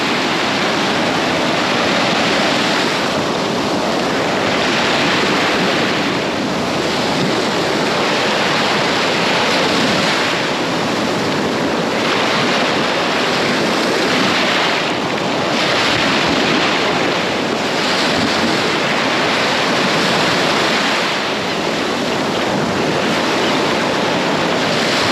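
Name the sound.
ocean waves on the beach at Destin, Florida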